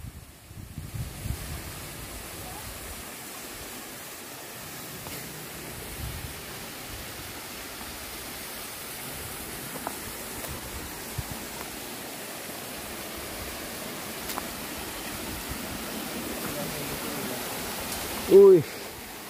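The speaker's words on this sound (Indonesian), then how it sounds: "Tuh, udah lihat curugnya dari sini." Ciongka waterfall (curug) gives a steady, soft wash of rushing water heard from some distance, mixed with wind, while faint voices murmur now and then.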